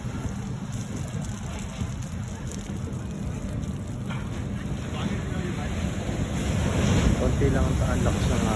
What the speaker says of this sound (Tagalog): Konti lang ang lakas ng alon